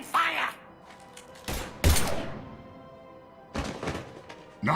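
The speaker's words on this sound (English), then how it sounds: "Now open fire!" Gunfire in Mass Effect 3 arrives as a few sharp, loud bursts separated by quieter stretches, with voices speaking between the shots.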